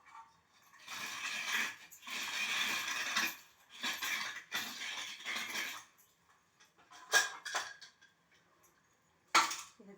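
Coconut being grated by hand on a traditional grater while preparing chow chow and brinjal kootu, heard as repeated raspy scraping strokes in bursts, close and fairly steady, with brief clinks between them and no talk.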